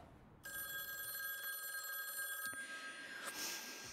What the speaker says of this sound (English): The phone. It's for you.